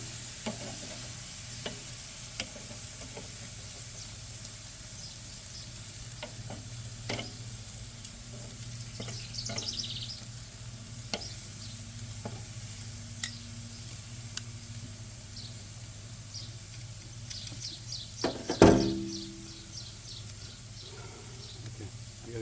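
Asian-style pork chops on a charcoal grill give off a steady, soft sizzle and crackle with scattered pops, ending in a brief louder scrape near the close.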